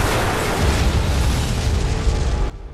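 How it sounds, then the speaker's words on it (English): Bomb explosion in the film Sharknado, a loud broadband roaring blast that rumbles steadily for over two seconds and then cuts off abruptly into near quiet. "That explosion was smaller than all of the other bombs."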